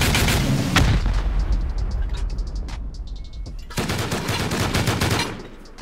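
Video game rocket launcher shots and explosions, heavy booms at the start and again later with rapid crackling bursts in between, loud and close, with a voice talking briefly.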